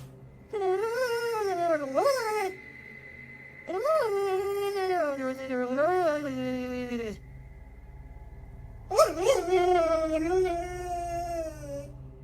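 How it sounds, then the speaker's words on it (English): A dog stares at something unseen and whines in long, wavering high-pitched cries, in three drawn-out bursts separated by brief pauses, close and fairly loud over a low steady background hum. "He's seen in the video staring at something and whining for several minutes."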